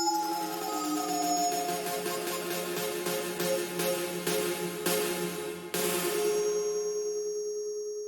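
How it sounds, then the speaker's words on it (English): Lush rave synth pads from a Rave Generator plugin, processed through a vocoder and convolution, sustaining bright chords with a few sharp swells and a sudden change near the end, with no voices. "here's some pads from Rave Generator."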